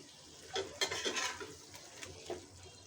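Pangas fish curry is stirred and turned in a pan, a few soft scraping and clinking strokes of a spoon over a faint background sizzle, quiet and close with no talking.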